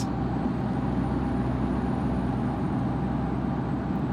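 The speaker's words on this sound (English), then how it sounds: "Just feels like a nice, quiet truck." Steady low engine drone of a truck cruising in American Truck Simulator, a quiet cab with a constant rumble and no talk throughout.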